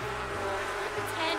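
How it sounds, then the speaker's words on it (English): Bees buzzing in the life-simulation game The Sims 4: a close, steady insect drone with a slight wavering pitch, heard alone. "The bees are not being nice."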